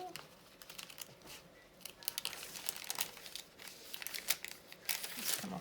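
Paper being cut out for a handmade winter postbox, with crisp snips and crinkly rustles in a busy, irregular flow, close up and moderately loud.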